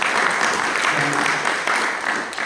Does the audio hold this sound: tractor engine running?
no